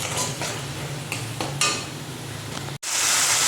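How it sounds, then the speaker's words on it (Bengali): Spiced masala for soyabean curry sizzling in a pan with already-fried potatoes added, a spatula scraping and stirring in scattered clinks over a steady close frying hiss, then a brief cut and a brighter, louder sizzle. "তো এই যে আমি মশলাটা কষিয়ে আলুও দিয়ে দিয়েছি।"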